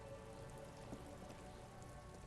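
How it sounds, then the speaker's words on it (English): Steady rain in the video game Disco Elysium: a constant dense patter and hiss of drops on surfaces, even and unbroken throughout, with faint background tones mixed in. "You can get out of the rain now, my friend."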